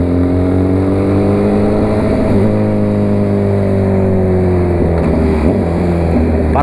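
A Honda CB 1000R motorcycle engine idles loud and close with a steady rumbling tone, then blips and revs in short bursts, with the pitch dipping and rising.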